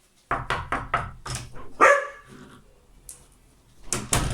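A dog barks five or six times in a quick series, followed by a longer yelp and a few softer, fainter barks after a pause.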